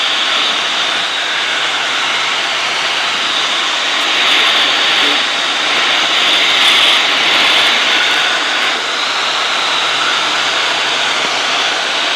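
A small airplane's engine drones loud and unbroken from inside the cabin in flight, a steady roaring hum with slight swells and no pauses across the whole stretch.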